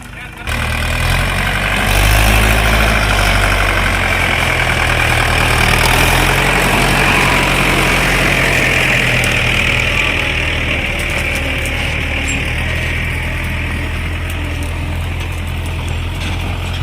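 A farm tractor's engine runs steadily in a field, a loud, continuous low idling drone that holds for the whole stretch with no break.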